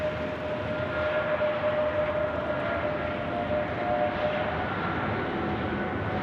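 A United airliner arriving from San Francisco at Sydney Airport, heard as a steady, broad jet roar with a faint whining tone, continuous and fairly loud with no talk.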